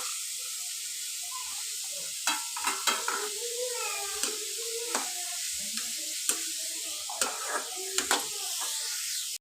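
Onions sauté in a pan with a soft, even sizzle while a utensil scrapes and taps the pan in scattered bursts, heard up close with no voices.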